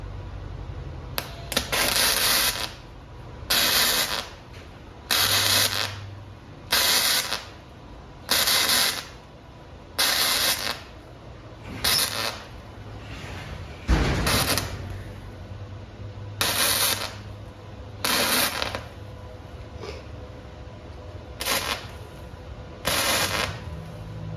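Flux-core welding with a Lincoln 211 using .035 wire on a snow shovel build: about a dozen separate crackling, sputtering bursts of a second or so each, with short pauses between them, close and fairly loud.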